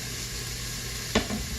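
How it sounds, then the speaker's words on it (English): Chopped onion hits hot oil in the bottom of an Instant Pot, a soft continuous sizzle with one sharp scrape or clatter near the end, close and with no voices. "I'm going to add a little bit of oil to the bottom to brown the beef. I'm going to add my chopped onion."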